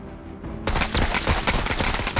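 Sudden heavy automatic gunfire in the tactical game Menace, starting abruptly after a quiet lead-in and continuing as a loud, dense, rattling barrage.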